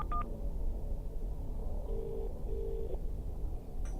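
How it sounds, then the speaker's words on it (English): A phone dials a call, giving a few short touch-tone beeps at the start and two longer tones later, faint over a steady background hiss. "Okay, I'm going to make a phone call."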